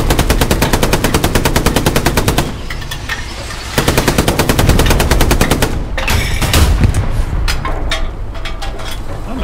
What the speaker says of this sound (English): Grease gun just killed someone on our ass.